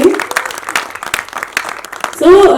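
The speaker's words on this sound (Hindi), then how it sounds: "तालियां भी उनकी जोर से होनी चाहिए।" Audience clapping at a Hindi film trailer launch, heard as scattered claps under and around an amplified host's voice, rising into a louder burst at the end.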